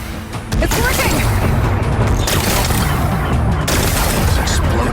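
Rock-blasting explosions in Horizon Forbidden West, a dense, continuous roar of booming blasts and crackling debris that starts sharply after a brief lead-in and stays loud throughout.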